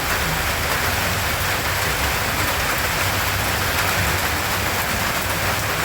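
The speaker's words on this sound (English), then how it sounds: "I always like the rain. We're getting our tomatoes watered," Steady rain falls on a rainy day, watering a tomato garden, a constant dense hiss with close patter of drops on surfaces, even and unbroken throughout with no voices.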